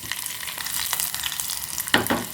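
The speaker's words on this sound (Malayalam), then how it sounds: "കടുകൊന്ന് പൊട്ടി വരട്ടെ കേട്ടോ" Mustard seeds splutter in hot oil alongside urad dal and dried red chillies for a tomato-onion chutney, with rapid crackling pops over a steady frying sizzle and a louder burst near the end.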